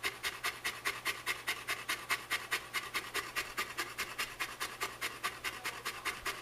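A Saint Bernard pants steadily and rapidly up close, a regular rhythm of quick breathy huffs, about three per second, continuing throughout without talking.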